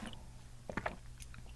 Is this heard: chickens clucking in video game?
no